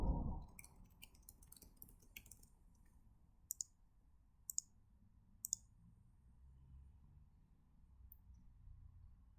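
Quiet computer mouse clicks tick out in scattered short bursts, some quick clusters and a few isolated single clicks over faint background hiss.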